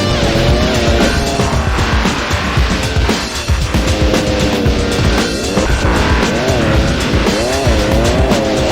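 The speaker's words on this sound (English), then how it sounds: "Speed Kings takes you into the thick of the action with some extreme street motorcycle racing" Extreme street motorcycle racing in the video game Speed Kings, with loud, continuous engine whine rising and falling through gear changes, mixed with tire squeals and skids.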